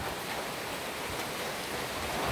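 Steady heavy rain falling during a typhoon in Laguna, a dense continuous hiss with no breaks, close and even throughout.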